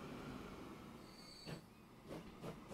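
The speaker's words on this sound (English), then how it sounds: "let's turn this train around," A train running on tracks in the Transport Fever 2 video game, a steady rolling rumble with a brief high wheel squeal and a few clacking bumps toward the end.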